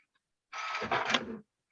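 A home printer whirs into motion during a convention call, a steady mechanical hum and rattle lasting under a second, fairly faint, with no talking over it.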